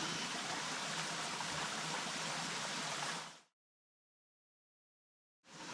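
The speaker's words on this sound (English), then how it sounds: "And now it's bedtime with the sound of running water." A mountain stream runs steadily as a close, dense rush of water, then cuts out abruptly into silence before the rushing returns at the very end.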